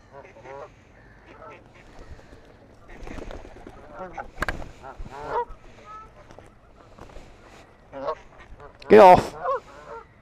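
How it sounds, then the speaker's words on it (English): Birds honk and quack in goose-like calls while they attack, the cries coming in irregular bursts near and loud, one sharp harsh shriek near the end, with a person shouting and talking throughout. "I'm being attacked by birds."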